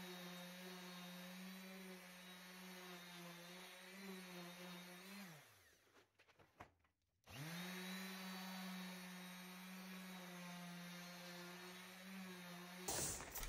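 A power sander whirs steadily at close range on the edges of an epoxy table, winds down and stops briefly, then starts up again with the same even buzzing drone.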